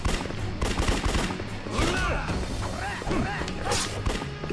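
Gunfire in the brawler game Yakuza 3 Remaster, a loud chaotic mix of shots, impacts and thuds with short bursts scattered throughout amid fight noise and grunting voices.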